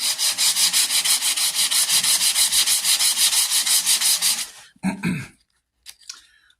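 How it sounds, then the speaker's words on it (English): Hand sanding of a wooden Hawken rifle stock, a steady run of rapid, rhythmic rasping strokes up close, then stopping with a couple of brief scrapes and small handling sounds after it. "When you're sanding, you can sand in circles."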